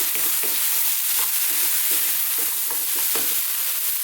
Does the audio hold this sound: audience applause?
no